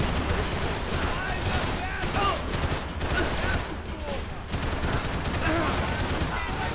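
Dense gunfire in the shooter video game Max Payne 3, a loud, continuous barrage of shots and bursts layered with game effects, with someone talking excitedly over it.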